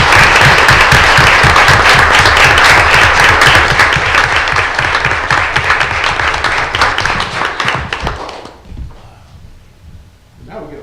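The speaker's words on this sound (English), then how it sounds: "I think that's applause worthy." A council chamber crowd applauds a 100th birthday proclamation with dense, loud, sustained clapping that tapers off after about eight seconds, leaving scattered quieter room sounds.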